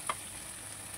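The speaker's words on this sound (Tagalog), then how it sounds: "Ginigisa ko na po yung ating bell pepper." Bell pepper sautéing in a pan gives a steady, soft sizzle throughout, with a brief brighter clink near the start.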